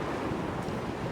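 Ocean waves in the video game Dear Esther give a brief, steady surf wash blended with windy rumble, continuous and fairly loud, with no voice.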